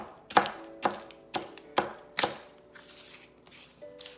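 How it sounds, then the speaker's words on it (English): A knife chops nuts on a board in five sharp, evenly spaced strikes, each with a brief ringing tail, followed by quieter tonal hum; close and alone. "still chopping nuts, chopping nuts, chopping nuts"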